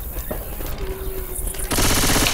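A shotgun fires in an online multiplayer shooter game, with a couple of sharp shots early and then a loud, dense burst of rapid gunfire that fills the last second.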